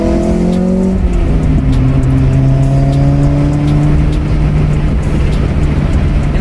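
A Honda B20 car engine revs up and accelerates hard, its droning pitch climbing steadily, loud and close with no talking.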